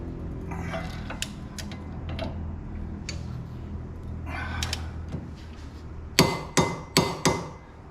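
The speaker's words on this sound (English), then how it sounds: "So when you hear that click, that means it's at the torque it needs to be at." Torque wrench tightening bolts during a hitch install on a 2022 BMW X5M Competition: four sharp, close metallic clicks in quick succession near the end, after quieter shuffling work sounds.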